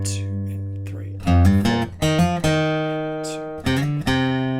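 An electric guitar plays the verse variation riff of a song, a few loud sustained chords and notes struck in a slow rhythm, each ringing and fading before the next.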